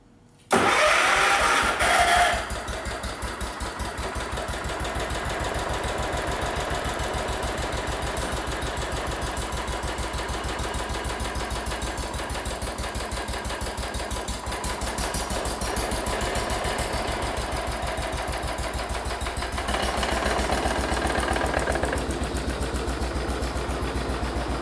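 A Kohler K241 engine mounted in a tractor cranks and catches with a loud burst, then settles into a steady, rapid chugging idle that holds for over twenty seconds, close by and alone.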